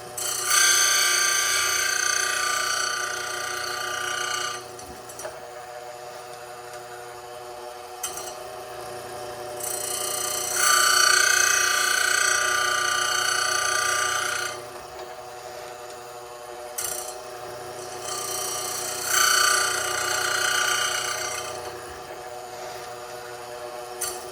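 A Bell K-6 square chain grinder sharpens chainsaw teeth, giving three sustained abrasive grinding bursts of several seconds each, separated by quieter pauses. It is moderately loud and close, with no talking.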